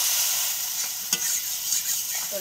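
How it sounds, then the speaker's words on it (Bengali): Masala with turmeric being stirred and sautéed for katla fish kalia, a steady frying sizzle broken by a few soft scrapes and a knock of the spatula, close and alone without talk. "এটাকে ভালো করে নাড়াচাড়া করতে হবে"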